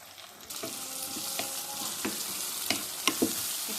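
Tomatoes sizzle and fry in a pan for a curry with ginger-garlic paste, a steady close hiss broken by stirring scrapes and clicks, with no talk.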